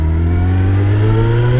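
A turbocharged Suzuki Hayabusa motorcycle accelerates hard, its engine note climbing steadily in a loud, close, continuous roar with rising harmonics, no speech over it.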